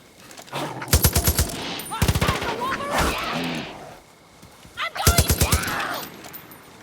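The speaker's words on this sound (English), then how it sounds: "this is a LMG, I think" Bursts of light machine gun fire in the shooter game Far Cry New Dawn: three rapid volleys, loud and close, with game sounds and brief voice between them.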